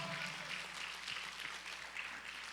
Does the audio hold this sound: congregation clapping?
yes